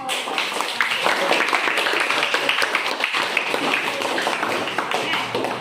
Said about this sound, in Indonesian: Ibu kasih tepuk tangan untuk semua